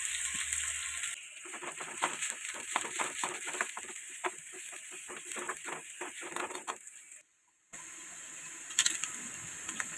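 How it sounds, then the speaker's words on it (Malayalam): Chopped shallots, five to eight of them, fry and crackle in hot oil with fenugreek, a steady close sizzle with dense irregular popping that stops briefly near the end and then returns. "ചെറിയ ഉള്ളി നമുക്കതിനകത്തേക്ക് ചേർത്ത് കൊടുക്കാം"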